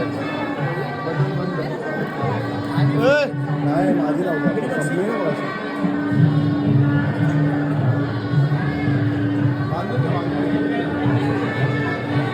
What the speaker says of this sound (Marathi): टाइम झाला म्हणून जेवणासाठी गर्दी जास्त.